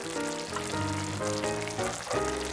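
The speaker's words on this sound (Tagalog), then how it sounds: "Let it simmer for 2 to 3 minutes. And po, nagsisimmer na." Pork tail sauce simmers in a pan with a steady, soft bubbling sizzle, under continuous background music with sustained tones.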